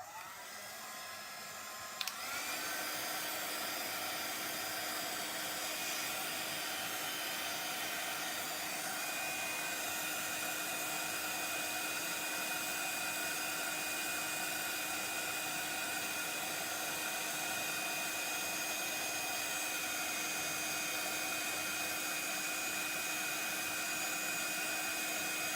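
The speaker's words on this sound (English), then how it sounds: "I'm gonna heat set this quickly" A heat gun runs steadily for about 23 seconds while melting embossing powder to heat set it, giving a continuous loud blowing whoosh that starts abruptly after a brief quieter moment.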